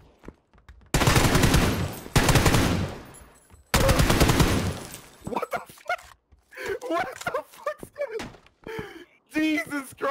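Bursts of automatic gunfire in PUBG, two loud sustained rattling volleys and a third near the middle, followed by talking voices between fainter thuds.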